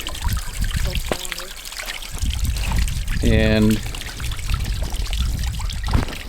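Water spews and trickles from the drain outlet of a tank on a homestead during a polar vortex cold snap, a steady splashing flow with someone talking over it.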